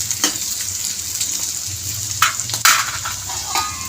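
Ivy gourd vegetables cooking in a covered pan, giving a steady soft sizzle and frying hiss, with a few sharp clinks and scrapes as the lid is handled, close and fairly loud.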